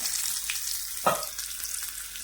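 A hot tadka of spices, coriander powder, red chilli and onion sizzling in oil, a soft continuous crackle with one sharper scrape or clink midway, no talking.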